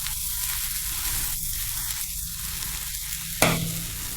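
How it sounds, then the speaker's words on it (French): Rice and sausage frying in a pan give a steady close sizzle, with faint stirring scrapes now and then and a sharp clack of the utensil near the end. "Le riz commence déjà à frire avec la saucisse."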